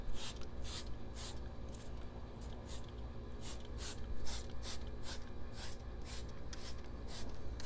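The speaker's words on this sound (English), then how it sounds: "let's do the real test now where we spray it back down and clean it off" Short hissing bursts of brake cleaner spray on a wheel repeat in quick, irregular succession, close by, over a constant background rumble.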